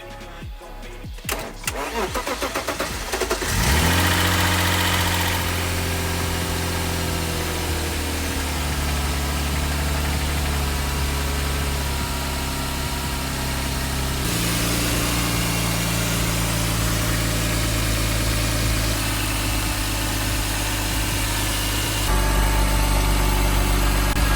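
A car engine with a newly installed wastegate cranks briefly and catches on its first start, then settles into a loud, steady idle that holds with a slight shift midway.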